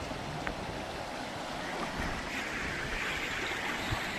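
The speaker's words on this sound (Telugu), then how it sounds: "అలలు ఫాస్ట్ గా పోతున్నాయి" Fast-flowing water of the Papagni river gives a continuous rushing wash, steady and moderately faint, with some wind buffeting the microphone and no talk.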